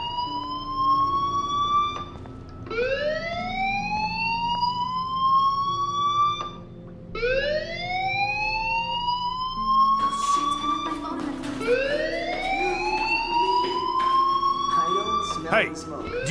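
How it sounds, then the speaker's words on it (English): Repeated rising electronic alarm wails ring out in the video game Life is Strange, several sweeping cycles in a row, loud and steady, with a faint voice underneath. "Hey, do you hear that fire alarm? That means you should be outside."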